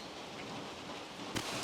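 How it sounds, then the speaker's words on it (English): Rain falls softly around a small porch as a faint, even hiss, with one brief louder rustle toward the end. "Thankful for the rain."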